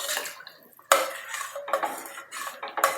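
Rice being stirred in a metal pot while cooking biryani, with scraping and clinking of a utensil against the pot in a few bursts, close and fairly loud.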